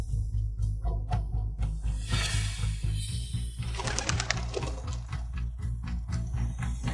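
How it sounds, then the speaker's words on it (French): A pigeon or dove coos a few times at moderate distance, set against a steady musical backdrop in a dramatized scene. "C'était juste un oiseau."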